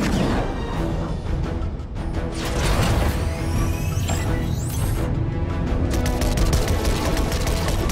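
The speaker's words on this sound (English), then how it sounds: "I was hoping we'd have an excuse to try out the battle bus's laser cannons." Rapid bursts of battle bus laser cannon fire in Fortnite crackle and zip amid loud crashes and whooshing effects, a dense barrage of synthetic combat sounds.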